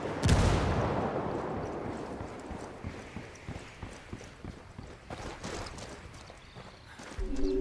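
A frag grenade blast opens with a loud, deep boom in the Ghost War video game, followed by a dense run of rapid gunfire cracks and rumbling shots that continue to the end, with no talk over them.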